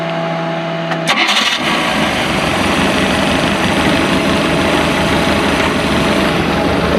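A boat's engine is started on a sea trial: a brief cranking burst at about one second catches into a loud, steady, low idling rumble that continues close by with no talk.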